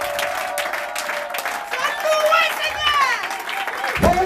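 A church congregation claps and cheers loudly for the king, sustained applause and voices rising together as a crowd while people call out over it.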